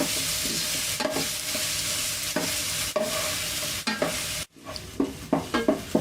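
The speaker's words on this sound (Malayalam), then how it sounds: "ഇത് നല്ലൊരു ബ്രൗൺ നിറം ആവുന്ന വരെ നമുക്ക് വഴറ്റി കൊടുക്കാം." Chopped onions and garlic sautéing in a pan for Gobi Manchurian, a bright continuous sizzle broken by repeated scraping spoon strokes, growing sharper and clattery near the end, close by with no voices.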